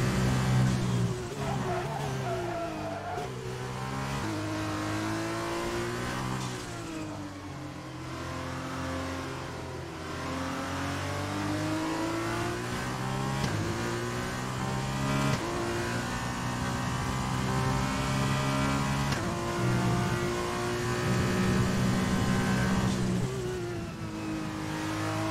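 An F1 2020 racing game car engine screams and revs up through the gears with rising and falling pitch, loud and continuous for nearly half a minute. Brief tyre scrub over kerbs comes through, and a voice speaks quietly beneath.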